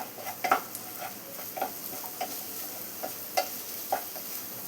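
Onions with a pinch of turmeric being stirred in a sizzling pan, a low continuous fry with regular scraping and tapping strokes of a spoon, close and with no talking.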